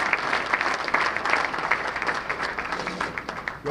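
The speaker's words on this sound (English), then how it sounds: "Let's give the Lord a hand clap of praise again." Audience at a sports hall of fame enshrinement banquet clapping in praise, a steady, dense wash of many hands sustained throughout without talk.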